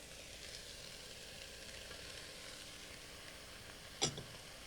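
Zucchini sautéing in oil with other vegetables gives a steady, moderate sizzle and crackle throughout, with a single sharp clink of a utensil near the end and no voices.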